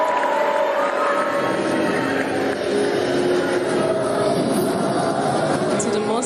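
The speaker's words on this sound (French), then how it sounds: "On l'acclame bien fort." A large audience at a Miss Cameroon pageant cheers and applauds steadily, a dense roar of clapping and shouting that holds at full volume throughout.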